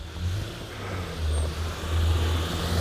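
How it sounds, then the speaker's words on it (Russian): Marshrutka minibuses drive by in a snowstorm, their low engine drone swelling and fading as the vehicles pass at a moderate distance. "Маршрутки все-таки ходят, смотрите."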